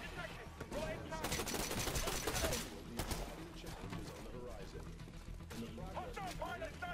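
Rapid carbine gunfire in the video game Titanfall, dense automatic bursts crackling through a busy match with other gun sounds, while players talk over the shooting.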